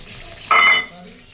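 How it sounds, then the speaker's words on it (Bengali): Dry red chilies and nigella seeds hit hot oil left over from frying pointed gourd, giving one loud, close sizzling burst of about a third of a second over a quieter background. "একটু শুকনো লঙ্কা দিলাম, আর একটু কালো জিরে দিলাম, ফোড়ন দিলাম।"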